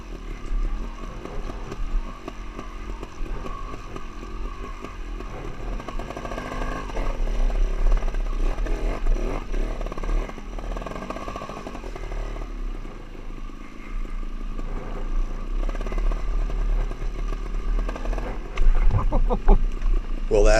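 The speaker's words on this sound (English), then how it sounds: "This little bike has a lot of engine braking" Small motorcycle engine braking on a ride, a steady low engine drone with wind noise that swells and eases as the bike slows, continuous throughout.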